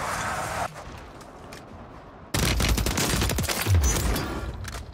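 Bursts of automatic gunfire from the SVA weapon in the shooter game Warzone 3, a brief volley at the start, a quiet gap, then a louder sustained rattling stream of rapid shots close up.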